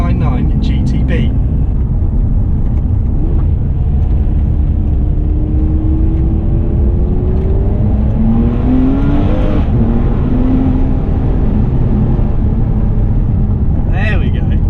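A Ferrari 599 GTB's 5.9 litre engine pulls hard from inside the car, a loud droning roar rising and falling as it accelerates, heard continuously under the cabin noise.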